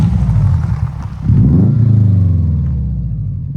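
A 300,000-mile Subaru WRX Bugeye with its stock downpipe gives a loud, mellow, low engine rumble that swells with a brief rev, then settles into a steady, smooth drone.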